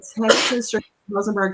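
A single sharp sneeze bursts out close to the microphone during a live shoe and accessories tagging broadcast, followed by a speaking voice.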